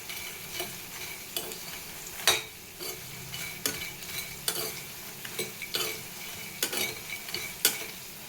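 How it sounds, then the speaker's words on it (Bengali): Steady oily sizzling of food frying in ghee in a pan, punctuated by irregular scraping and tapping of a spatula stirring, close and moderately loud. "শর্ট ব্রেকের জন্য ঘিতে ভেজে দিচ্ছি, একবারে অনেকটাই ভেজে দিচ্ছি"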